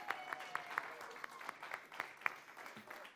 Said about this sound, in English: Let's give a big round of applause to all of our actors and volunteers.